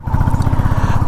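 A Royal Enfield Bullet 350 single-cylinder engine idles close by with a loud, steady low thump, evenly spaced pulses repeating in a regular beat.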